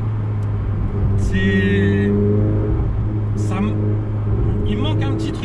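A Ferrari 488 Pista engine hums steadily at low pitch with a mild rev, while a person talks over it intermittently.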